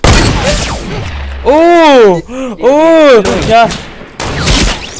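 Other players firing in Fortnite produce loud, close gunfire bursts at the start and end, while excited shouting and exclamations break out in between.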